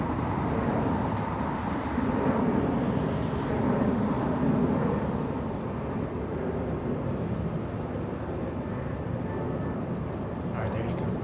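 Airliner departing LAX airport, a steady broad jet roar heard from a distance for about eleven seconds, moderately loud and even with slight swells and some wind noise, with a voice speaking faintly over it.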